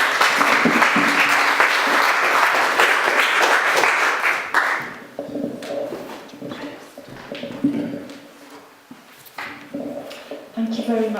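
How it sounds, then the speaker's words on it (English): Audience applause for Jackie and Kevin at a Christian gathering on the EU, a full burst of clapping for about five seconds that then fades into scattered claps, shuffling and low voices. "give Jackie and Kevin a round of applause"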